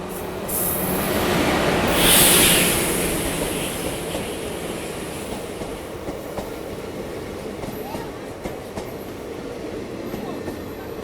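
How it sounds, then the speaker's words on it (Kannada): The Hubballi–Tirupati Intercity passenger train rolls past at a crossing, a loud sustained rush of wheels on rails with rhythmic clatter and a high squeal early on, heard close by. "ಇದು ನಮ್ಮ ಕ್ರಾಸಿಂಗ್ ಆಯಿತು ಹೇಳ್ದಂಗೆ. Hubballi Tirupati intercity passenger train ಜೊತೆ"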